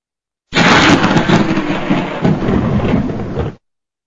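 Thunder in a thunderstorm rumbles loud and broad for about three seconds, starting and stopping abruptly, with no voices.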